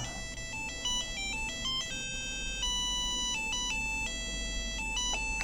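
A cheerful electronic ringtone melody from an old PCT mobile handset plays in quick, tinny beeping notes, moderately loud and continuous, with a brief break partway through.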